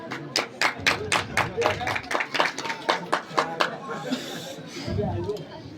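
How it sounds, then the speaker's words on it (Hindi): An audience at a Ramlila prize-giving ceremony claps in a steady rhythmic pattern, distinct close claps repeating for several seconds before fading into low murmuring and a brief voice. "तो जोरदार तालियां"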